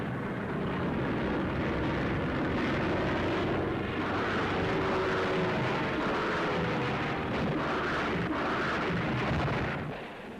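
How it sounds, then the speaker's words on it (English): Rocket-firing Hawker Typhoon fighter aircraft in 1945 wartime footage, a loud sustained engine roar with rumbling, booming bursts rising and falling over about ten seconds. "These are rocket-firing Typhoons."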